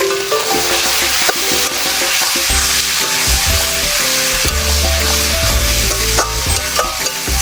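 Green chillies fry in a pan of hot oil with Kashmiri chilli powder while being stirred: a loud, steady sizzle runs throughout, broken by scraping stirs, with faint tonal background sounds and no talking.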